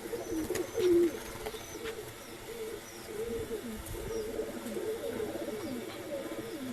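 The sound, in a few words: pigeons cooing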